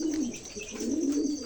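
An old pigeon in Bangladesh coos in a steady, throaty series of low rolling calls, close and clear with no talk over it.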